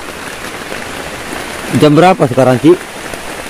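Heavy midnight rain drums steadily on the roof of a shelter above a river, a dense constant patter. Voices talk briefly over it.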